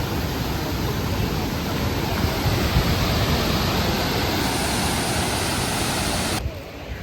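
A Wayanad waterfall rushes in a continuous broad roar, loud and steady throughout, with a slight drop and shift in tone near the end.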